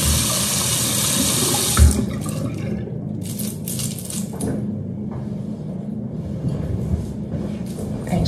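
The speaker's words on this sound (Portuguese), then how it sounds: "Agora vamos enxaguar com água." Running tap water rinsing false eyelashes at a sink, a steady close hiss of flowing water that is loud at first and then thins to softer splashing and dripping.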